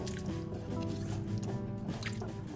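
Water stirred into a pan of potato posto curry, a continuous wet squishing and sloshing as the spoon mixes the liquid through, close and steady throughout.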